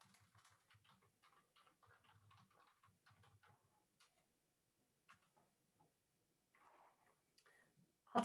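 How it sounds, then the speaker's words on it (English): Keys tapped on a computer keyboard in quick, quiet bursts of clicks, with short pauses between runs and a louder knock at the very end. "you hear me typing away"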